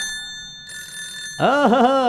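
A telephone rings with a steady electronic tone, then a voice cuts in loudly over it near the end.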